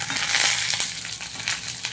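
Chopped garlic is stirred as it fries in a pan, a brief close burst of crackling sizzle with scraping strokes of the utensil.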